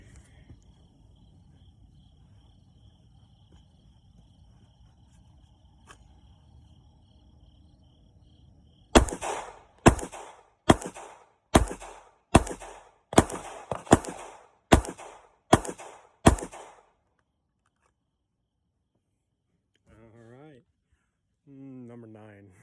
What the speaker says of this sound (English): We'll do that one more time. Same spot, 10 shots.